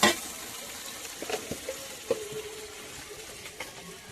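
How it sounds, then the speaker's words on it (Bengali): Mutton frying in oil with sugar while being browned for kacchi biryani: a steady, soft sizzle with a few light spoon clicks and scrapes scattered through, alone with no voices. "এদিকে মাংসটা কষানো চলে"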